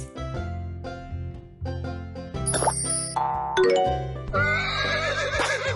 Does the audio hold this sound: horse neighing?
yes